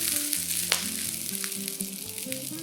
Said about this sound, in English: Fry the 4 slices of ginger and the green onions.